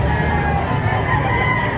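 Chickens at a livestock market in Padre Garcia, Batangas, including a black hen, cluck and a rooster crows through a steady crowd din, continuous and fairly loud.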